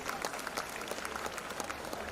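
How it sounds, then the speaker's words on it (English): Audience applause at an awards ceremony for waste management, air and water, with steady clapping from a crowd through the whole stretch. "Big applause to Dalmia Cement"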